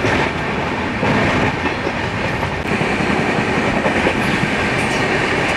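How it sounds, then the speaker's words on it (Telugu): Swarna Jayanti Express passenger train running fast through Akividu railway station, a loud continuous roar of wheels and rushing rail noise with steady clickety-clack, close and sustained throughout. "మన ట్రైన్ వచ్చేసండి ఆకివీడు రైల్వే స్టేషన్ అయితే స్కిప్ చేస్తుందండి"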